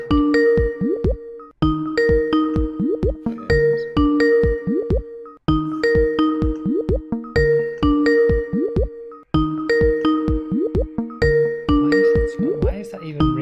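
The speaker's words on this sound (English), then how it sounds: "Why is that even ringing?" A call ringtone plays a bright, repeating melodic chime pattern four times in a row, loud and close, each phrase separated by a brief pause.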